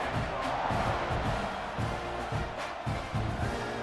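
A stadium crowd in an American football video game roars in a steady, dense wash of cheering that holds at an even level throughout, with no clear voices standing out above it.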